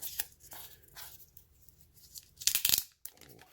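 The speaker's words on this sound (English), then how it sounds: "let's take the sticker off of it" A protective sticker is peeled off a Google Pixel 4 XL phone charger during an unboxing: a few soft, close crinkly rustles, then one louder, sustained ripping peel near the end, with no talking.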